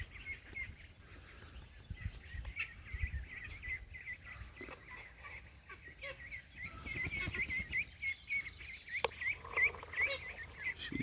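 Repeated honks and calls from geese sound throughout, moderately close, over low rustling and outdoor background noise.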